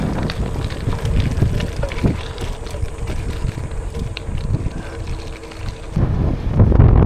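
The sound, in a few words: wind blowing while gravel biking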